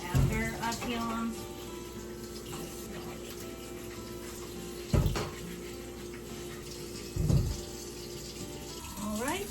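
Tap water runs steadily into a kitchen sink as peeled potatoes are rinsed under it, making a continuous close splashing rush. A few louder splashes break through when the potatoes are moved in the stream.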